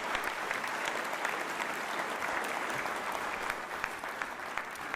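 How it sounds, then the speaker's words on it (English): Crowd applause for the Philadelphia 76ers at a mayoral press event on a Center City arena, steady dense clapping heard from a short distance, continuing evenly throughout. "Give our Sixers a round of applause."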